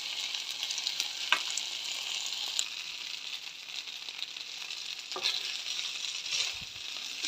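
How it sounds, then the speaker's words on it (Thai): Fruit fried rice with seasoning powder and oyster sauce is stirred in a hot pan, with a continuous close sizzle and a few sharper scrapes of the utensil, and no talking. "เราคนให้เข้ากัน"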